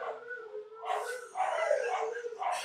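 Pet dogs howling together in a home in the morning, drawn-out wavering howls rising and falling over a few seconds, fairly close and clear with no talking.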